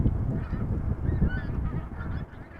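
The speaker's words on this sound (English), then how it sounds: "Almost sounds like geese." Geese honk in a loose, overlapping chorus at moderate distance, the calls riding over a steady low rumble of wind and aircraft noise at a stormy airport.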